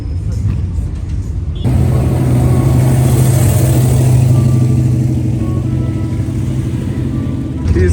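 BMW cars pass nearby on a scenic upstate New York road, an engine swelling into a loud, steady drone and then easing off, with a few voices audible near the start.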